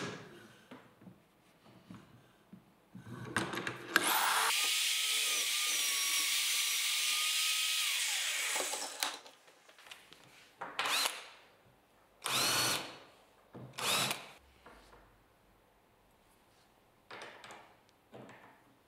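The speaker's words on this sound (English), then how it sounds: "I drill holes in the other frame for some threaded inserts" A power drill whines at high speed for several seconds while drilling holes in a wooden workbench frame for threaded inserts, then a series of shorter drilling bursts follow with quiet gaps between them.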